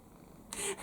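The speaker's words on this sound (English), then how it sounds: "Can you hear her purring?" A pet cat purrs while being cuddled, a short close burst of soft rumbling purr that rises after a quiet start and fills the last part of the moment alone.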